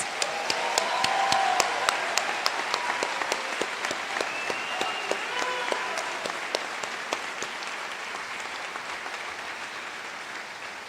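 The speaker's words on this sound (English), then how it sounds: "Let's give another round of applause." An audience at a White Coat Ceremony applauds: sustained, dense clapping from a large crowd that fills the whole stretch and fades slightly toward the end.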